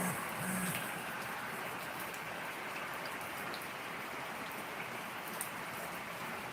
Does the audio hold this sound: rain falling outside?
yes